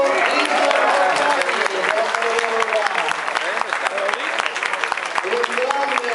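Crowd applause at an amateur boxing event in San Giovanni Lupatoto after the verdict, dense steady clapping throughout with a voice announcing over it.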